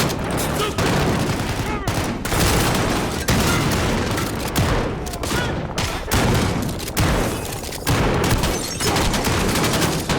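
Gunfire in Call of Duty: Modern Warfare (2019), continuous loud automatic shooting with booming reports and rapid bursts, close and intense, filling the whole stretch.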